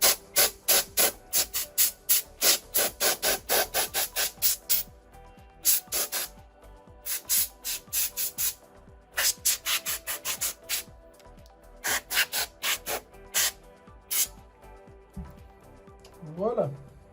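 Repeated rhythmic rubbing and brushing strokes clean the inside of a laptop, coming in loud bursts with short pauses between them while a voice speaks at times.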